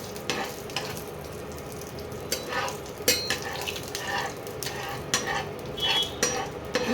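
Boiled olive mixture goes into a pan of hot panch phoron and fries, with a crackling sizzle broken by repeated sharp clatters of a spoon against the pan.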